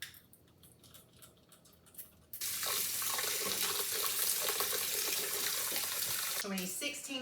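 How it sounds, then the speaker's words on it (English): Grapes are rinsed under a running kitchen tap. After a quieter moment of handling, the water gushes on and splashes steadily and loudly close by, then thins toward the end. "Now we're going to wash our grapes."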